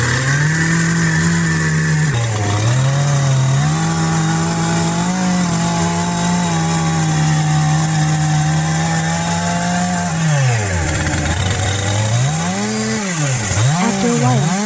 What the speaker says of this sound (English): someone uses a power saw to cut large pieces of wood